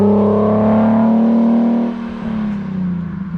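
A Nissan 370Z NISMO with an AAM Competition S-Line short tail exhaust, full system minus muffler deletes, drones loudly and steadily up close, then eases off as the engine note drops lower.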